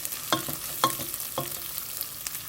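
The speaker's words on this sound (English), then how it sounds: "Once the chilies, garlic, and ginger are in, stir them around." Chopped ginger, garlic and chilies sizzle softly in hot oil while being stirred, with a few distinct scraping strokes of the utensil over a faint, steady crackle.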